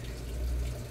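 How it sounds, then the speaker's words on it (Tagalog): A little water poured into an automatic washing machine under repair, a steady low running wash of liquid lasting under a second, close and fairly loud with no talk. "So lagyan muna natin ng konting tubig"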